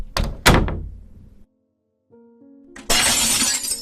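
A door is forced open: two heavy thunks ring and decay, followed by a brief hush and a few low tonal notes. Then a loud burst of shattering glass crashes in and sustains to the end.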